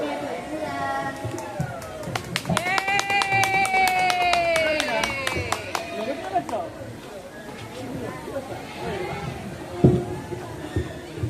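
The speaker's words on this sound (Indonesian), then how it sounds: "tepuk tangan untuk kelas 7B penampilan kalian" A school audience claps and cheers after a grade 7 class performance at a co-curricular event. Excited voices and shouts rise over scattered clapping, with crowd chatter throughout.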